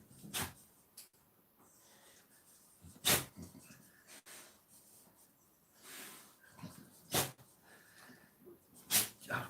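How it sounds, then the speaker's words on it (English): A dog sneezes several times in short, sharp bursts spread across the stretch, close up, with snorting breaths between and quiet surroundings. "can you stop sneezing on me?"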